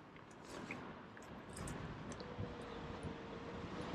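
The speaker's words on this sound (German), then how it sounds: "da ist der Wind gleich wieder lauter" Steady wind rush buffeting the microphone during a paraglider flight in the Zillertal, a continuous broadband roar that swells slightly louder partway through, with no talk.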